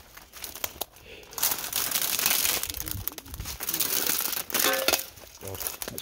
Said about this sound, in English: God, that's glass.